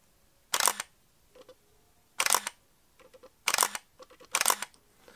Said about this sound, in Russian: Давайте послушаем его.